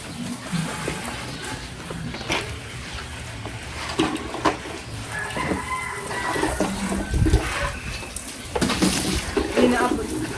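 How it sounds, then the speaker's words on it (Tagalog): A power spray washes a motorcycle, its water jet hissing and splashing against the bike in uneven bursts that swell and fade as the nozzle moves, close and fairly loud throughout. "Para ako nagpapaligo ng motor na ito."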